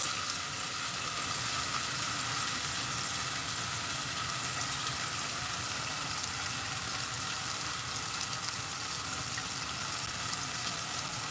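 Rice added to a hot pan for Spanish rice sizzles and fries in a loud, steady, continuous crackle close by.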